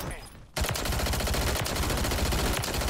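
Rapid automatic gunfire in the video game Modern Warfare 3 bursts in after a brief quieter lead-in, then rattles on loud and dense as a continuous volley for the rest of the stretch.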